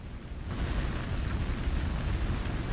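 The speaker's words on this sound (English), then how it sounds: "The building's on fire!" Fire raging through a building in Like a Dragon Gaiden, a dense continuous roar with low rumble that swells after a brief quieter start, loud and unbroken with no talk.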